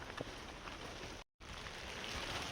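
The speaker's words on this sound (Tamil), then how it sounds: "இப்போ மழை வேறு நல்லா பெய்ய ஆரம்பிச்சிச்சு." Heavy rain pours steadily during a walk in the rainy season around Madikeri, a dense continuous hiss with one brief dropout midway and no talking.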